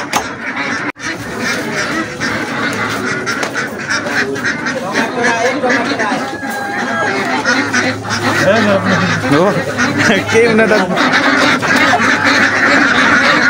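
Ducks quack and honk continuously at a busy Nepali poultry market selling ducks, layers and broilers, a dense, loud chorus of overlapping calls with people talking briefly beneath it.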